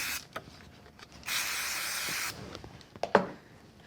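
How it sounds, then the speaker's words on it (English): A steady hissing burst of spray glue lasting about a second, close by, with quieter rustling and a few small clicks before and after, while card-making. "We'll just use a little bit of spray glue."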